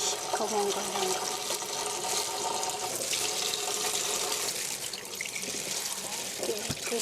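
Tap water runs steadily over a whole chicken being rinsed clean in a kitchen sink for soup, a continuous splashing wash with faint voices in the background.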